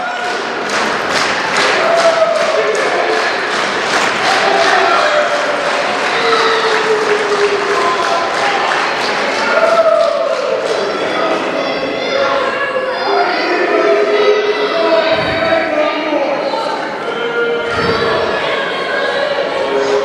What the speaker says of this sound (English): all the noise the crowd's making